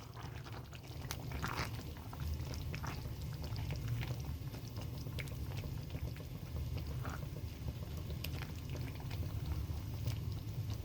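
Cooked spinach is stirred in a pot, making a continuous soft, wet bubbling and sloshing with faint scraping clicks, close and steady, with no voices.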